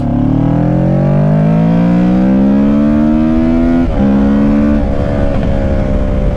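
A Kawasaki ER-6F motorcycle accelerates hard at full throttle from second gear, its loud engine note climbing steadily in pitch with brief dips at gear changes, heard up close from the rider's position.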